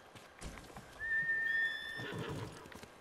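A horse whinnies once in a high, drawn-out call while hooves clip-clop and shuffle in the background, part of the game Ghost of Tsushima.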